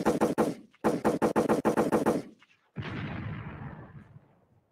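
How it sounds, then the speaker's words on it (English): Gunshot sound effect: a rapid volley of sharp, loud shots in two quick bursts, then a brief pause and a heavier booming blast that slowly rumbles away. "Gunshots."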